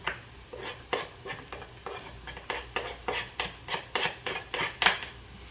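Onion and shallots with garlic sizzle in a pan while a utensil stirs them in a steady rhythm of scraping strokes, up close and fairly loud, with no talk.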